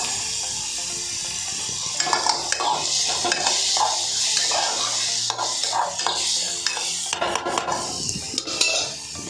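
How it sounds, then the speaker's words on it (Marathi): Paste made from leafy vegetable stalks is stirred into onions frying in a pan: soft sizzling under regular scraping strokes and occasional metallic clinks of a utensil, near and without speech. "ही देठाची पेस्ट करून आणलेली ती मी आता कांद्यावर टाकते. ढवळते"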